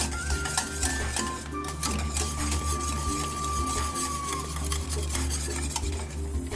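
A whisk stirs a Roquefort soufflé base in a pan, giving a steady, close scraping and clinking of metal against the pan with a faint sizzle underneath, continuous with no talking.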